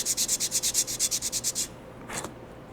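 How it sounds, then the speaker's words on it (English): Hand sanding a shaved part to fit during a build, about fourteen quick rhythmic back-and-forth rubbing strokes, close and fairly soft, then a pause and one more short stroke. "Need a little more sanding on it."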